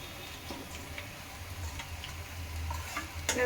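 Chicken and rice frying in a pot for double masala biryani while being stirred: soft steady sizzle with irregular scraping clicks of the spoon against the pot, close and moderately quiet.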